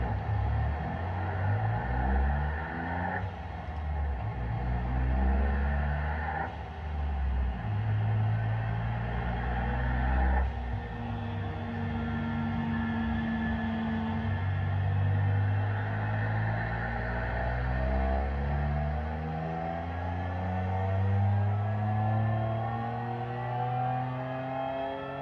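A car engine fitted with forged pistons revs up and down repeatedly for about 25 seconds. Its pitch climbs in long, smooth sweeps, and the drone stays close and continuous.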